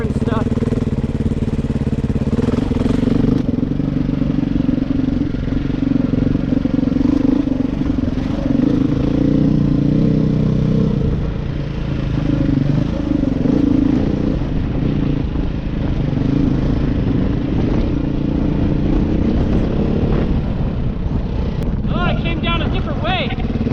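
A 2023 Beta 500 RR-S dirt bike engine runs while riding, a loud close drone that rises and falls with the throttle over a long stretch, with some speech mixed in.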